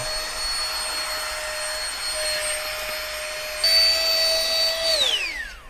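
A TAILI hanging electric vacuum pump pulls air out of a space-saving storage bag, giving a steady, loud motor whine. It rises in pitch partway through, then winds down at the end.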